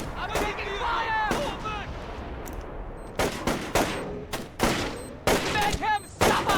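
Gunfire in the stealth video game Splinter Cell Chaos Theory, loud sharp shots and short bursts coming in irregular clusters, with voices calling out amid the shooting.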